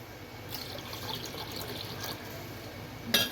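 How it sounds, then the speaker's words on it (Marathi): Water trickles quietly over washed flattened rice (poha) set to soak for kheer, a faint steady pour with a small splash at the very end and no speech. "ह्याच्यामध्ये हे पोहे भिजतील तितकं आपल्याला पाणी टाकायचं आहे"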